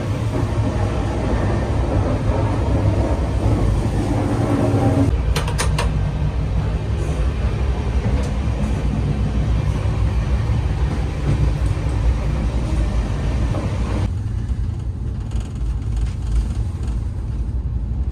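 Overnight train running in India, a loud steady rumble of the carriage with creaks and a few brief metallic clicks, the roar easing somewhat toward the end.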